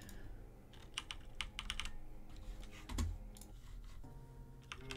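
A computer keyboard clatters with rapid, uneven keystrokes, the clicks running fairly quietly over a low background hum with no voices.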